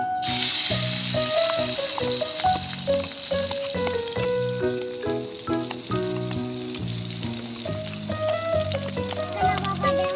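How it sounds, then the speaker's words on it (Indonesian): An onion omelette sizzles and fries in a pan, a steady crackling hiss running through the whole stretch beneath tonal background music, with no talking. "Ya, masak telur dadar kakak."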